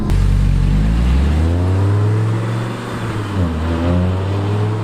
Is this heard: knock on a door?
no